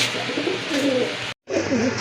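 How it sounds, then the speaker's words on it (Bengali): A pair of blue satin pigeons coo close by in repeated throaty rolls over a steady background, broken by a brief silent dropout near the end. "শুরুতেই আপনারা দেখতে পাচ্ছেন একজোড়া ব্লু শার্টিন কবুতর"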